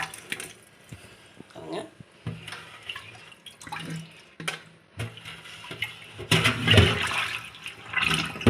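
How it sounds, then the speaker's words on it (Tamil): Running water splashes and trickles in uneven bursts as shrimp are rinsed in turmeric water in a sink, with brief clatters and a voice speaking in between. "மஞ்சத்தூள் வச்சு நல்லா கழுவி நாம் வாஷ் பண்ணி எடுக்க போகிறோம்"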